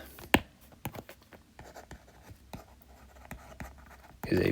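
Pen writing out precalculus notes on arc length and sector area, a close, quiet run of scratchy strokes and taps with irregular rhythm, and a short bit of speech at the very end.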